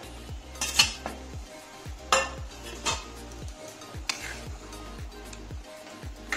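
A utensil stirs raw paneer into a boiled spinach and pea gravy in a pan, giving a steady rhythm of scraping strokes and occasional metallic clinks against the pan.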